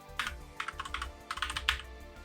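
Close, clear bursts of computer keyboard typing come in several quick clusters of keystrokes with short pauses between them.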